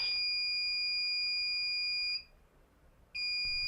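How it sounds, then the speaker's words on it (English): MedReady medication dispenser alarm sounding a loud, steady high-pitched electronic tone that cuts out briefly for about a second, then resumes, close and alone. "When it's time for medications to dispense, the carousel will rotate clockwise 1 spot, and the alarm and the light will flash."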